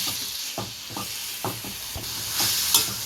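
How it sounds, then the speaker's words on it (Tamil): Washed, dried goat meat for kodi kari varuval frying in oil in a pan, a steady close hiss with soft crackle and intermittent scraping stirs, no voices. "இப்போ நம்ம கழுவி வச்சுருக்க அந்த சுடுகரியை இதில் போட்டுருவோம் அப்படியே நல்லதை வ வறுத்துக்கலாம்"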